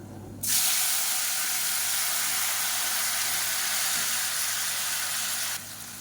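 Two medium tomatoes hit a hot oiled pan for a Tamil kulambu, setting off a loud, sudden, continuous hissing sizzle that holds steady for several seconds before cutting back down, no talking.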